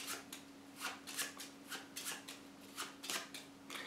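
A deck of playing cards is shuffled by hand at close range, producing quiet, repeated crisp riffling bursts in a quick, fairly regular rhythm.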